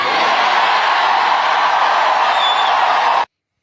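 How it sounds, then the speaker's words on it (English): A rowdy rally crowd in Kalamazoo cheers and roars continuously, a dense, loud wash of voices that holds steady and then cuts off abruptly. "A rowdy crowd in Kalamazoo"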